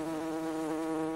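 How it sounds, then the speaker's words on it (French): Bees buzzing among apple blossoms, a steady droning hum with no break and no voices. "Les insectes pollinisateurs, tels que les abeilles ou les bourdons sauvages, participent à la fécondation des fleurs de pommier."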